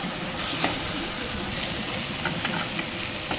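Prawns with pepper frying in a pan while being stirred: a steady close sizzle and hiss with scattered spatula scrapes and clicks throughout.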